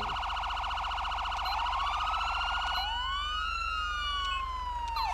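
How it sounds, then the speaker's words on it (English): A loud electronic police siren from the video game GTA V with the LSPDFR mod, a Carson SA 365 siren, wails, switching between rapid yelping patterns and a slower rising and falling tone, clean and synthetic-sounding. "So you guys can hear the sirens there."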